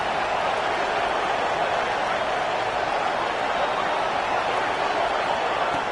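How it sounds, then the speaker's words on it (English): Stadium crowd roar in an American football video game during a red zone defensive stand, a dense, loud, unbroken wash of noise that holds steady throughout. "here comes the noise. This crowd is trying to inspire this defense to make a big red zone stop"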